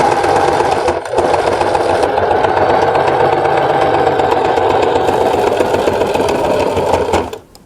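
A sewing machine stitches an L-shaped seam on fabric, running in a steady, close, loud mechanical whir. It pauses briefly near the first second, then runs continuously before stopping at the end.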